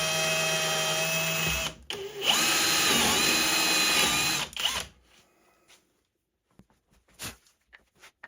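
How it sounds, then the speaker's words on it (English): Drill with a Forstner bit boring a cable notch in an old Ikea Billy bookcase panel, a loud steady whir for about five seconds that winds down, followed by faint clicks and handling noises. "This is just with a Forstner bit and then cleaned up with a chisel."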